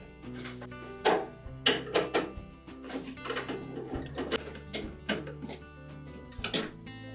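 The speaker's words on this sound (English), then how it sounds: "Now next we'll remove these 1/4-inch hex head screws that secure that housing to that metal bracket." Hex head screws, 1/4 inch, being removed from a housing on a metal bracket inside a Frigidaire refrigerator's ice dispenser, giving a series of close clicks, taps and clunks of tool and parts against a steady background hum.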